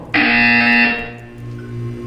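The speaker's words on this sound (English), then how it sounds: "When you hear the buzzer, look down at the floor." A loud, harsh electronic buzzer in the video game Portal 2 sounds abruptly, holds for under a second, then fades into a low hum.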